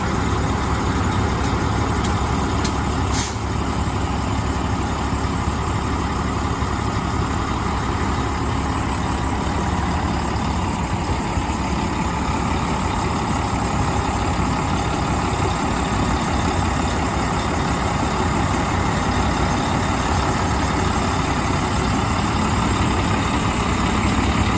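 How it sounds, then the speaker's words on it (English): Tractor truck engine idling steadily as the rig creeps straight toward a trailer for coupling, a constant low diesel rumble holding level for the whole stretch with no revving. "right now I'm gonna bring the tractor in a straight line, not in angle, always in a straight line towards the trailer"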